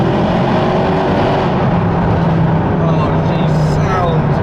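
Mercedes C63 AMG Black Series engine revving inside a road tunnel with the windows partly down, a loud low rumble that builds and echoes, with a voice speaking briefly over it toward the end.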